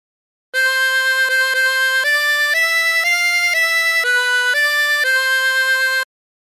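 Harmonica playing a short melodic phrase from The Streets of Laredo, a run of about ten clean sustained notes stepping up and back down in steady rhythm, close and loud with no talking.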